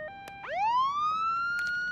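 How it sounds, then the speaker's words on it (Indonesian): A police siren played from a mobile phone gives a single rising wail that climbs steeply and then holds a steady high tone for about a second and a half, fairly loud and clear over a quiet background. "membunyikan suara sirine menggunakan ponselnya"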